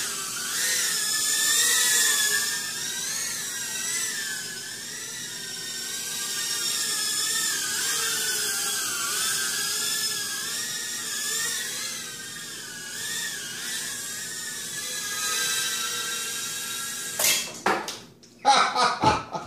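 BetaFPV Beta65 micro drone with 1103B 10,000 kV motors and four-blade props, a steady high-pitched whine that wavers in pitch for most of the clip before breaking into sharp, choppy bursts at the end.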